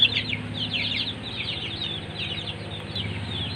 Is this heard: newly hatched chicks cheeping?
yes